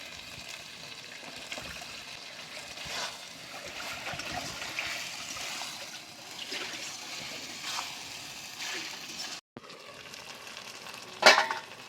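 Fried cauliflower dropped back into hot oil in a pan with poppy seed paste, a steady hissing sizzle with occasional stirring scrapes and a sharp clink near the end, close by and without talk.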